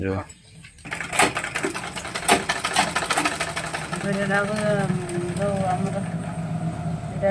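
A sewing machine stitches a blouse, its rapid mechanical whirring running steadily after a short pause at the start, loud and close, with background voices and household noise mixed in.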